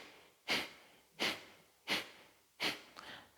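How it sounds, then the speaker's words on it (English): Breath work during a yoga session for women's health: four short, close breaths through the nose, evenly spaced about every 0.7 seconds, each a sharp rise that quickly fades, with quiet gaps between. "So we inhale halfway and then exhale."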